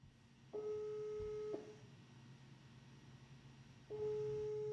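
Phone line call tones sound quietly during a telephone call: two separate steady electronic beeps, each about a second long, with a few seconds of low hiss between them.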